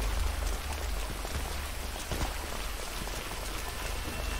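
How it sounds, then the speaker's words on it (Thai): Steady rain falls in a continuous close-up hiss, with scattered drops striking a surface and a low rumble underneath. "ฝนตกเดี๋ยวเป็นหวัด"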